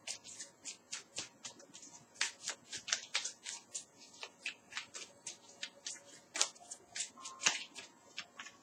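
Tarot cards shuffled by hand, a long run of rapid papery riffles and slaps in a quick, fairly regular rhythm, close and clear.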